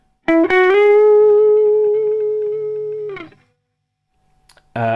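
An electric guitar picks a few quick notes of a phrase, then holds one long sustained tone with effects, fading out, followed by silence and a brief new strum.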